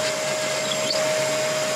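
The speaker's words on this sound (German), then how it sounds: "Hier habe ich jetzt einen 8 mm Bohrer drin und das bohre ich hier mal durch." A continuous loud whirring motor drones steadily throughout, close and unbroken, as an electric drill with an 8 mm bit bores through a workpiece for a homemade right-angle jig.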